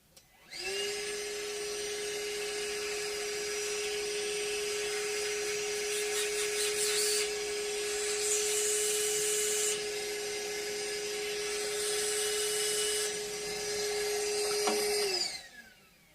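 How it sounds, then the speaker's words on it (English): A vacuum cleaner runs steadily for about fifteen seconds, cleaning a part from a Hondo 779 3/4 sewing machine, with a constant loud whine and airy hiss that start and stop abruptly. No one talks. "Let me vacuum it again."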